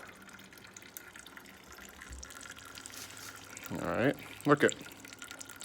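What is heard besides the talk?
water pouring into a bucket from an erosion model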